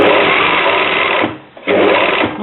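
A sewing machine runs steadily, stitching fabric 1.5 cm from the edge for a tubular gathered seam, with a brief pause partway through before the motor whirs back up to full speed.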